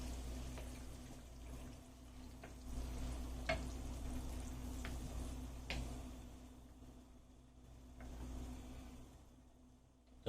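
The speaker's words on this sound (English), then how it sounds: "Give this a nice little stir." Chorizo spaghetti being stirred in a pan: a steady low sizzle of frying runs throughout, broken by a few sharp scrapes and clinks of the utensil against the pan.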